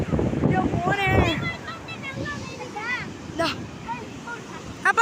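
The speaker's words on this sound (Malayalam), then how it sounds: "എന്ത് കാറ്റ് മനോഹരമായ" Strong wind at a beach buffets the microphone in rough gusts, mixed with a faint wash of surf, while voices talk and call out over it.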